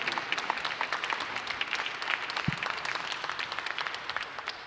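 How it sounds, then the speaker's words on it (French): A large audience at the closing of a science festival breaks into sustained applause, with many overlapping claps forming a steady, moderately loud wash that tapers slightly at the end. "Alors, un grand applaudissement."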